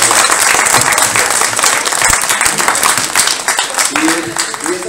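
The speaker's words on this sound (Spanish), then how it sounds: "Un aplauso muy fuerte para nuestro colega." Loud, dense applause from an audience at a live talk in Mexico City fills the whole stretch, a continuous roar of many hands with a voice briefly audible underneath toward the end.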